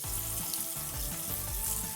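Steady broadband rush of tap water running into a sink, continuous and fairly close, with no voices.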